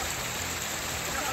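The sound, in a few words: heavy rain in Guwahati, Assam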